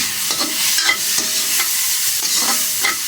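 Soy sauce hitting a hot pan and being sautéed, with a steady close sizzle and repeated scraping stirs of a spatula at an even rhythm, no voices.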